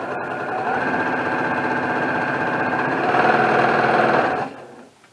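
A Brother PQ 1500 SL sewing machine stitches in a fast, steady mechanical whir for about four seconds, then stops abruptly.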